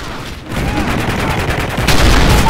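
Gunfire in a first-person shooter video game, where a player is hit by an AS-50 rifle. Loud, dense, continuous shots and crackle run through the whole clip and swell louder near the end.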